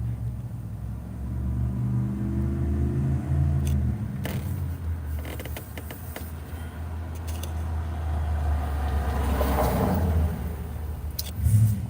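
A 4.3 liter V6 engine idles with a steady low rumble, swelling slightly a couple of times, close and loud throughout with no one talking.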